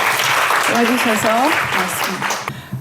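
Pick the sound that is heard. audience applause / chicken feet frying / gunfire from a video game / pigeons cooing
audience applause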